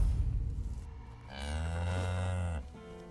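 A voice imitates a cow, giving one long, low, drawn-out moo that is close and fairly loud, preceded by a quiet, muffled pause.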